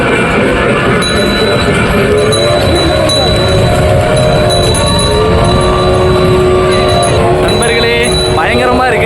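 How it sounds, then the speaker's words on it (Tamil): Loud, constant rumble and rattle of a moving train from inside, with metallic squeals and faint ringing tones over the clatter, near Palakkad, India. "நண்பர்களே, பயங்கரமாக இருக்குது ட்ரெயின்."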